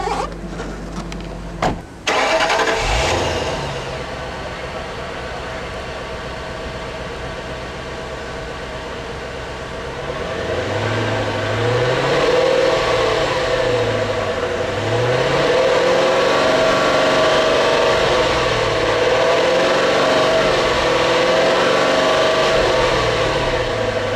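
A 2003 Lincoln LS with a 3.9 liter V8 cranks briefly, fires up and settles into a smooth idle, then revs in slow rising and falling blips, steady and close with no talking.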